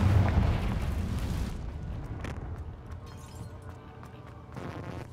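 A Bombarda spell blast in the video game Hogwarts Legacy: a loud, dense burst at the start that rolls off into a rumbling decay, with a softer crackling flare near the end.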